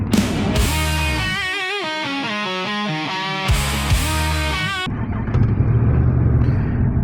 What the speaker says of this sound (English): Listen to that thing. It is the MT-10 SP.